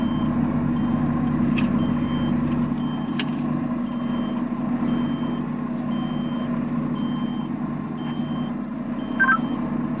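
A bulletproof Freeport city bus pulls in with a steady, low diesel rumble, while a faint, regular warning beep repeats over the engine noise.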